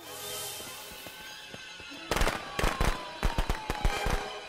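Fireworks in the video game Friday the 13th, a rapid burst of sharp crackling pops and bangs starting midway and continuing in irregular clusters, fairly close and loud after a quieter opening.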